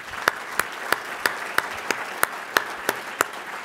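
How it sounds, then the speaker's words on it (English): Sparse, evenly spaced hand claps, about ten sharp smacks in steady rhythm, ring out in a quiet room during a round of applause for Alan at the 2013 Boston Dining in the Dark dinner. "Here's a round of applause for Alan."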